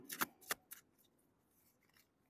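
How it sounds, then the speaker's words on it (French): A card is drawn from a Toltec agreements oracle deck. A few quick, crisp papery snaps and rustles come close together at the start, then fade to near silence with faint handling. "On va tirer une carte des accords Toltec"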